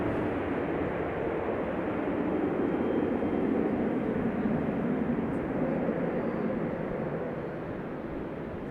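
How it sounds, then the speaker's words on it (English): A Boeing 737 airliner at Charlotte airport, heard as a steady, broad jet roar that holds fairly even throughout and eases slightly near the end, with no voices. "we got a little 737 action, a little Boeing this time"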